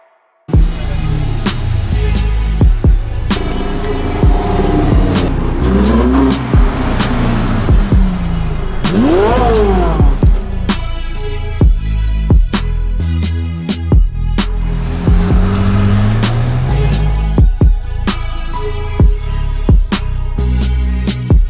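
A car drifting at the 2019 Prague Car Festival, its engine roaring and revving continuously for the whole stretch, loud and close, with rising and falling revs and tyre noise and no talk.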